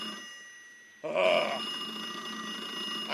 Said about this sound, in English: I almost don't even want to answer the phone.